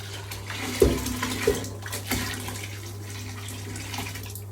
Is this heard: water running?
yes